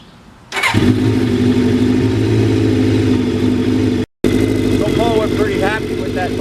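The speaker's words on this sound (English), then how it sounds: "We're pretty happy with that muffler that Luciano donated to our cause" Kawasaki GPX750R Ninja motorcycle engine fitted with a donated muffler starts and settles into a loud, steady idle close by, with a speaking voice over the engine near the end.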